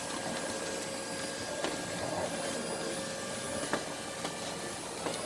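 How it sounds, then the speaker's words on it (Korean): A household vacuum cleaner runs steadily indoors, giving a constant whining drone with a few faint clicks and knocks now and then and no talking. "하나, 이제 청소기 안 무서워?"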